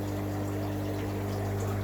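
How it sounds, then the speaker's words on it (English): Water rushing through the valve of a reverse osmosis unit, a steady, loud hiss of flowing liquid heard alone and unbroken throughout. "now the water's come on, so the RO's working"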